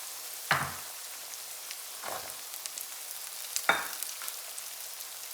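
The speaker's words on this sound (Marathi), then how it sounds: "आपल्याला गॅस मोठा करूनच भाज्या परतायच्या आहेत." Mixed vegetables for veg schezwan fried rice sautéing in a pan over a high flame: a soft continuous sizzle broken by three sharp, louder bursts as the vegetables are tossed.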